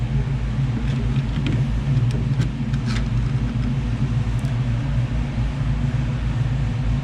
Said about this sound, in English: That car sounds so nice too.